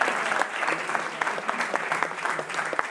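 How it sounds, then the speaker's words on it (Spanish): An audience applauds after a talk on forms of energy, a dense, steady wash of many hands clapping at close range, with no voices over it. "dedicar este aplauso, inmerecido por mi parte"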